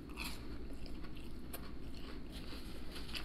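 Someone bites and chews fresh cut fries up close, a soft crunch and mastication over a steady low background hum, with no talk.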